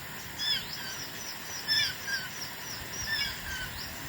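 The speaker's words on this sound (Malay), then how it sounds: "Burung." A bird gives short, high, repeated chirping calls near a lake, moderately faint, in three brief bursts over soft outdoor background noise.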